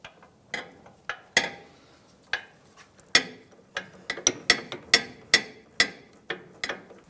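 A ratchet wrench loosens the 17 mm sway bar link nut on a Mazda CX-9 during lower control arm work. Sharp, irregular clicks come in short bursts, close up and clear, against a quiet background.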